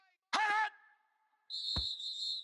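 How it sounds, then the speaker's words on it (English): Referee whistle in the Madden 19 football video game: a short voiced burst comes first, then after a pause a single long, shrill, steady whistle blast rings out clearly. "And now whistles and a flag"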